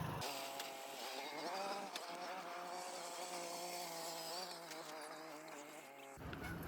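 A tractor engine runs at a farm during a millet harvest, a steady buzzing drone that holds for several seconds and then cuts off near the end.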